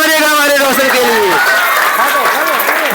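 Applause from an audience at a school result celebration at Jharkhand Public Residential School, a dense, steady patter of clapping that carries on under a speaking voice.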